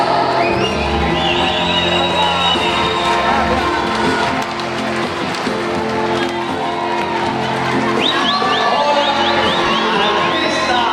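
An audience at a concert in Lerín for the 2018 Basque-language day festival applauds, whoops and cheers. The loud crowd noise is mixed with band music that keeps playing throughout.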